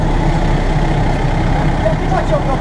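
A vehicle engine running steadily at about 1500 rpm, heard from inside as a continuous low droning hum with no changes in pace, loud and close, with a faint voice briefly over it.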